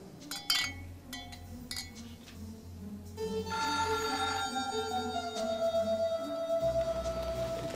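A telephone rings in a quiet room, its bell tone repeating from about midway through, preceded by a few sharp clinks and knocks, with a steady low hum underneath.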